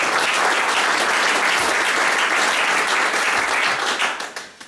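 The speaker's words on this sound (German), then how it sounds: "Ich darf nochmal klatschen." Applause from an audience at an evening local-history book presentation in a hall: dense, steady clapping from many hands, sustained for several seconds and then tapering off quickly at the end.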